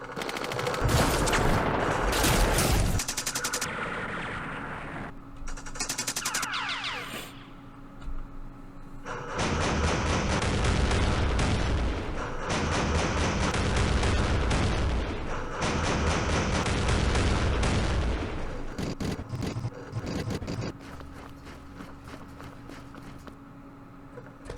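Airstrike explosions and gunfire in the Campaign Series Middle East war game at the Battle of Port Said, a dense, loud run of booms and rattling shots that continues almost without a break.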